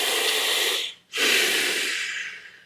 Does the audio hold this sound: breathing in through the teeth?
yes